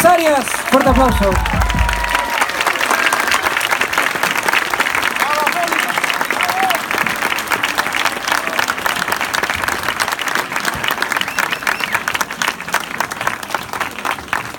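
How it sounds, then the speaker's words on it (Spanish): A large crowd gives sustained, loud applause that fills the whole stretch, dense clapping with scattered cheers and voices blended into the roar. "Fuerte aplauso."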